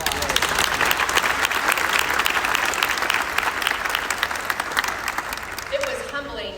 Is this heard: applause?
yes